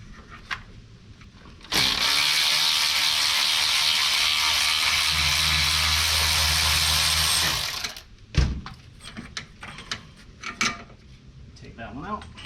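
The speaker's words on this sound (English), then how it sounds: "So I'm gonna take off this bottom bolt. It's a 13mm, getting it with a shallow" A 13mm shallow socket on a ratchet works a bottom bolt loose on a 2009 Pontiac G6 during an AC overhaul, a loud steady mechanical whir for several seconds, followed by a few light clicks and handling noises.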